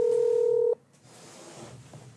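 A phone's keypad emits a single steady dialing tone for under a second, loud and close, then stops sharply into quiet room noise.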